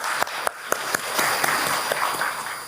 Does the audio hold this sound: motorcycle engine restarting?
no